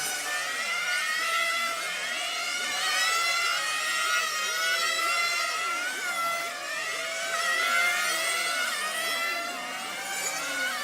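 Several high-revving rally race car engines, R4 cars of the Euro Nitro Series at Lentiai, Italy, whine and buzz together at a distance, their pitches sweeping up and down through gear changes in a steady, continuous drone with no talk.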